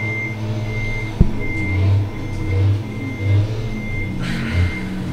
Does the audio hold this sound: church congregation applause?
no